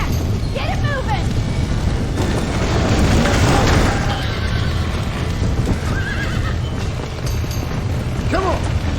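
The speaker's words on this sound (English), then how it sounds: "Get that horse back. Get it moving." In Red Dead Redemption, a horse lets out several shrill whinnies over a continuous wash of hoofbeats and outdoor game noise, fairly loud and close.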